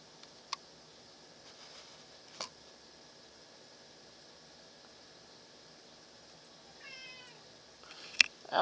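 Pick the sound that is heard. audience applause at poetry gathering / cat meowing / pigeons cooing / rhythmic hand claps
cat meowing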